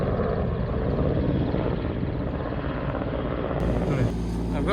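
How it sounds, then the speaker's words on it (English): A big helicopter flies overhead, its rotor drone loud and steady throughout, with a low rumble growing near the end. "There's a big helicopter somewhere."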